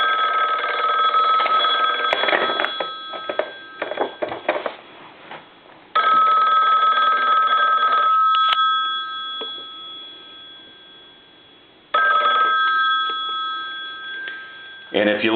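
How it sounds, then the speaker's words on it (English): Western Electric 500 rotary desk telephone's mechanical bell ringing loudly in several long bursts with short silent gaps between them, heard up close on a repair bench. "let's check this phone out real quick. We'll plug it in. We're going to ring it."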